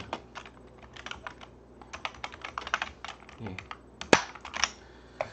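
Irregular bursts of computer keyboard typing while a poster is built in a Hangul word processor, with close, crisp key clicks and a louder keystroke near the end, under faint low talk.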